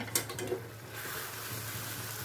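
Cooked methi (fenugreek) vegetable is stirred in a pan, giving a couple of quick scraping strokes at the start followed by a soft, steady sizzle, close and fairly quiet, with no talking.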